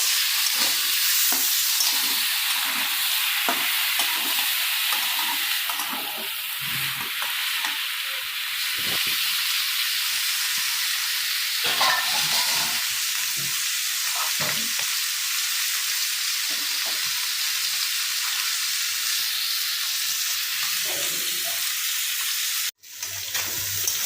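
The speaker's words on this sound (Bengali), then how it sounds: "চিংড়ি মাছটা দিয়ে একটু ভাজা ভাজা করে নিলাম।" Shrimp fried with vegetables hiss and sizzle loudly in a hot pan, a steady close crackle with repeated stirring scrapes, ending with a brief clunk.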